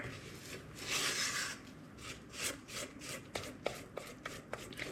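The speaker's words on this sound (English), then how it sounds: "I am going to scrape the sides here just a little bit." A utensil scrapes the sides of a pan of homemade sweetened condensed milk as it thickens, with soft brushing strokes followed by a series of quick, light scraping ticks, close and fairly quiet.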